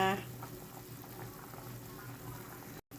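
A pot of soup with pork ribs, pickled cabbage and shiitake mushrooms simmers with a steady, soft bubbling hiss, close and continuous, broken by one brief dropout near the end.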